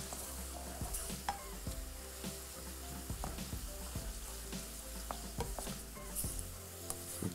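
Onions fry in a pan while being stirred, a steady soft sizzle with repeated scraping knocks of the spoon against the pan, close by and continuous with no talking.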